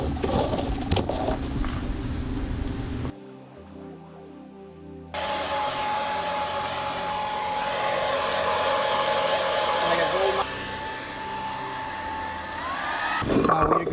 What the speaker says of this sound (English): We're grinding down the cocoa nibs into the powder little bites.